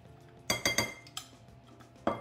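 A utensil stirring melted chocolate into wet cake batter in a bowl, with a quick run of three clinks against the side, a softer tap, then another sharp knock.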